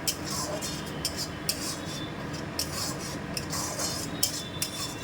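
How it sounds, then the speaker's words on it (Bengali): Onions being sautéed and stirred in a pan for a prawn and elephant-foot-yam curry, with a spatula scraping and clinking against the metal in a steady, close, repeated rhythm and no talk. "এটাকে ভালো মতনভাবে এখন কষাতে থাকবো। পেঁয়াজের একটু কাঁচা গন্ধটা যাতে চলে যায়"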